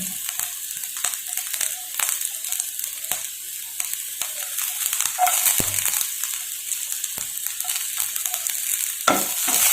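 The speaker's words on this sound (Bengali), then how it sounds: "এখানে পেঁয়াজটা লাল লাল করে ভাজা হয়ে গেছে, এবার এর মধ্যে আমি কুচি করে রাখা লঙ্কা দিয়ে দেব" Chopped green chillies and browned onions fry in a pan, a steady sizzle broken by repeated scraping and stirring strokes from a spoon, with no talk.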